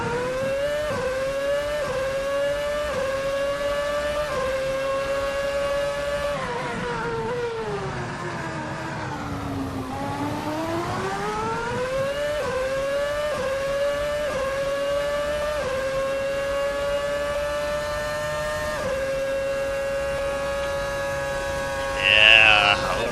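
A 2007 Formula 1 car engine in the Assetto Corsa racing game howls at high revs, dipping briefly at the bottom of a hill before climbing again through the gears, loud, steady and close throughout.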